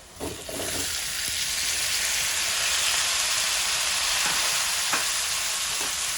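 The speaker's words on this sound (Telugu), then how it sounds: "ఇప్పుడు దీంట్లోకి మనము టమాటాస్ వేసేసుకుందాం" Tomatoes land in a hot pan of turmeric-seasoned base for a tomato and green chilli pulusu, setting off a loud, steady sizzle and hiss with a few stirring scrapes.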